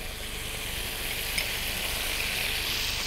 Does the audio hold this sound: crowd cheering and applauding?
no